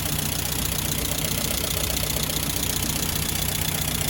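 An ex-military Land Rover Series II 88-inch petrol engine idles steadily and loudly up close, a constant, even rumble with no talking.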